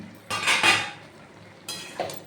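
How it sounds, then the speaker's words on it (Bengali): A pumpkin and Malabar spinach curry is stirred in a pan, giving two bursts of close metallic scraping and clanking separated by a quiet pause, then a shorter scrape. "এবার আরেকটু ভালোভাবে নাড়াচাড়া করব"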